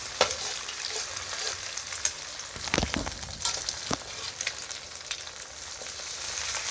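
Egg and garlic stir-fried in a pan, a steady sizzle broken by sharp scraping strokes and clanks, close and fairly loud, with no talking.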